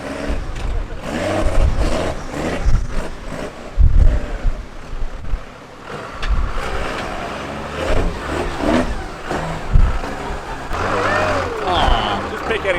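Nissan Patrol 4WD on big 37-inch tyres and long-travel suspension crawling through deep track ruts: a low engine drone with bumps and thuds under heavy wind buffeting, with people talking throughout.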